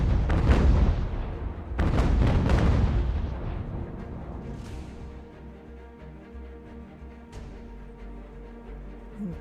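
Cannon fire from ships in the UGAR naval battle game, a British campaign sea battle: heavy booming shots in quick succession early on, then scattered fainter blasts over a rumbling low background, no talking.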